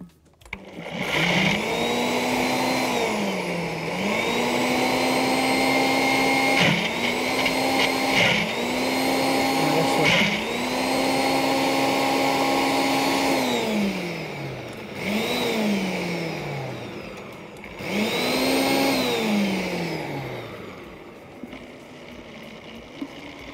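An electric chopper whirs in repeated bursts while mincing onion for kibbeh, its motor pitch dipping and rising with each pulse, loud and close with no talking.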